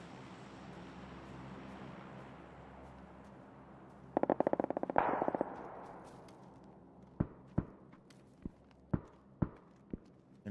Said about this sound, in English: That's an MG.